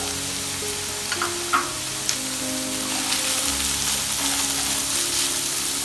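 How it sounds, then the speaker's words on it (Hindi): Finely chopped onion sautés in a pan for an aloo chicken roll, giving a close, steady sizzle with a few soft stirring clacks early on and no talking. "इसको भी हम सौते करेंगे,"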